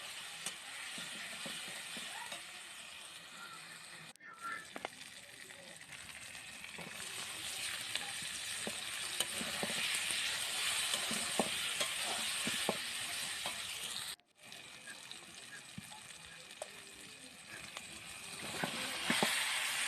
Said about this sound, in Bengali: টমেটো কুচি দিয়ে হালকা জল দিয়ে মশলাটাকে কষে নেবো।